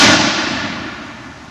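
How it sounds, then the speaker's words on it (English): A Brown Bess flintlock musket fires with a single loud blast, heard only as a fading roar that trails off into the distance and decays steadily over a second or more, with no voices. "the next command is fire, where I pull the trigger and we fire the musket"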